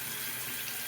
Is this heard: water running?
yes